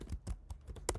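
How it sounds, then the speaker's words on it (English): Quiet, quick keystrokes on a computer keyboard tap out a short burst of irregular clicks, close and faint with no talk over them. "So just type in fast noise"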